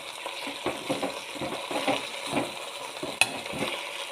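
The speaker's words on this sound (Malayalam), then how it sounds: "ഇനി നമുക്ക് നന്നായിട്ടൊന്ന് ഇളക്കി കൊടുക്കാം." Drumstick leaves with salt stirred in a pan during monsoon-season thoran cooking, soft scraping strokes in an irregular rhythm over a gentle sizzle, with one sharp clink of metal near the end.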